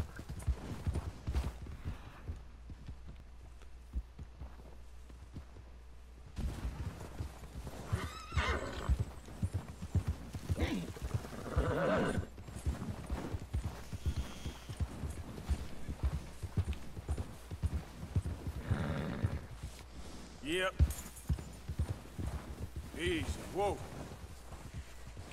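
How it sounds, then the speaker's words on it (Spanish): An Arabian horse in the Red Dead Redemption 2 video game whinnies repeatedly, its hooves clip-clopping steadily over a continuous outdoor ambience, while a person talks at times over the sounds. "es el caballo chingón"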